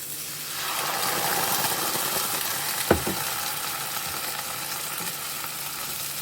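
White wine, a dry Chardonnay, sizzles and bubbles in a pan with onions and garlic, a steady broadband hiss that holds level throughout, with one brief clatter midway.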